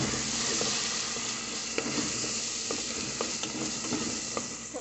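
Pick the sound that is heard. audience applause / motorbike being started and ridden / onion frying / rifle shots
onion frying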